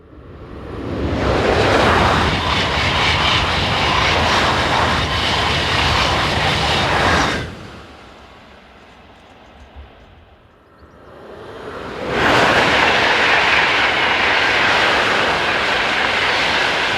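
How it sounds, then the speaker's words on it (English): A pair of TGV Duplex high-speed train sets rushes past, a loud broadband roar that swells, drops briefly to a low rumble for a few seconds, then surges back as the second set passes close by. "Virtually identical are the TGV Daci train sets, such as this pair seen here."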